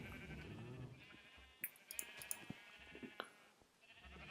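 Sheep in the Minecraft video game bleating a few times in quick succession, faint and brief, over quiet game ambience.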